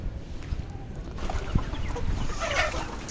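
Hens cluck close by while they are fed soaked wheat and chaff, giving a few short, scattered calls over steady farmyard background noise.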